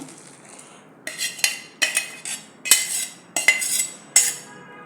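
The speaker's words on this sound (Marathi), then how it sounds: "आता ह्या मोठ्या चाळणीने आपण हे दाणे असे गाळून घेऊया" Boiled corn kernels are drained through a large metal strainer, giving a run of sharp, close metallic knocks and clinks at a steady pace.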